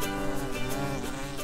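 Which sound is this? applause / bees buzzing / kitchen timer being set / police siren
bees buzzing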